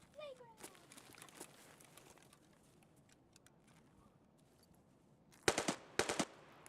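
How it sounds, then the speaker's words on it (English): Enemy gunfire in Escape From Tarkov, a distant rattle early on followed by a loud automatic burst near the end, with players talking over it. "Is that them shooting right there?"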